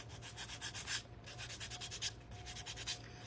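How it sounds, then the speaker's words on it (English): Hand sanding on a gourd craft piece gives repeated close, dry back-and-forth scratching strokes in an uneven rhythm, with short pauses, and no voices. "So do this sanding before you put it together."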